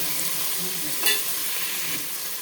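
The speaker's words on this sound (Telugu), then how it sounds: "వీటన్నిటినీ కూడా ఆయిల్లో వేయించేద్దాం" Mint and coriander sizzle in hot oil, a dense, steady frying hiss with a brief louder burst of stirring partway through.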